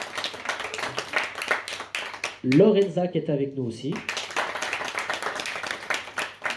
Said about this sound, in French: Dans un premier temps, je vous prie d'applaudir